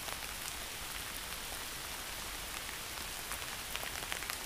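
Steady rain falls beside the Feather River in Yuba City, California, a dense, even hiss of drops pattering on surfaces close by, with no voices throughout.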